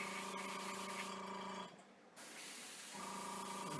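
An airbrush sprays clear coat over a Ju 87 Stuka scale model, a loud steady close hiss that drops away for about a second mid-clip before the spray resumes.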